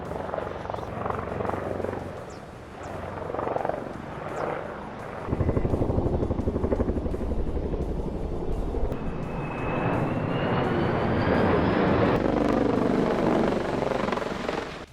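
Firefighting helicopters over the Los Angeles wildfire, a loud continuous rotor thrum and engine whine that swells and shifts as aircraft pass, a higher turbine tone rising partway through, with faint talk.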